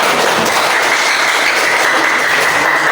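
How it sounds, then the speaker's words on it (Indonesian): A class of children claps steadily and enthusiastically at their teacher's prompt, a dense, continuous burst of applause close by. "Oke, tepuk tangan dulu."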